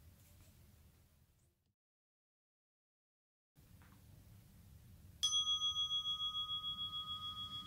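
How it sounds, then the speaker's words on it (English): A meditation gong is struck once to begin a mindful practice, ringing out with a clear pulsing, shimmering tone that lingers and slowly fades after a quiet, near-silent stretch with faint room sound. "we'll start on the first gong and we'll end on the third gong."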